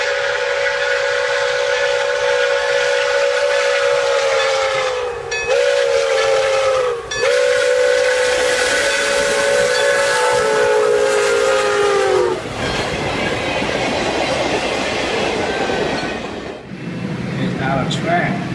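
A train passing a railway crossing blows a loud, sustained steam-type whistle in long blasts with brief breaks, then the whistle gives way to a heavy rolling rumble and hiss of the train, with a voice speaking at points.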